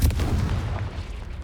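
A fiery Confringo spell explosion in Hogwarts Legacy booms with a deep, rumbling blast that starts loud and decays over a second and a half.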